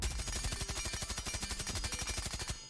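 Rapid suppressed automatic gunfire from a Rainbow Six Siege weapon fitted with a suppressor, a dense, even stream of muffled shots at a steady rhythm lasting the whole burst, loud and close with no talking.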